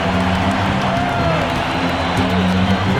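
Steady roar of a virtual basketball arena crowd in NBA 2K25 during a Pacers versus Mavericks game in Dallas, a constant loud wash of cheering with low broadcast-style hum throughout.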